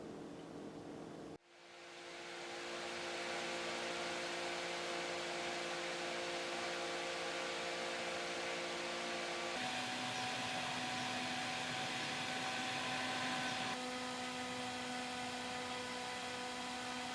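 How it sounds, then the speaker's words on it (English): A high-speed 12-volt desk fan on a small wooden stand switches on with a brief click, then whirs steadily and loudly with a bright airy rush and a motor hum that steps up and down in pitch as the speed changes. "just a quick vid to show you this super high-speed 12-volt fan I found"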